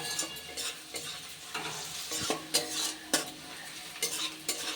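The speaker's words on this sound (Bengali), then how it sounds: "পেঁয়াজটা এবার তেলের মধ্যে হালকা লাল করে ভেজে নেব।" Thinly sliced onions frying in hot oil in a pan for a Bengali chicken curry, with steady close sizzling and repeated scraping strokes of a spatula every second or so, no voices.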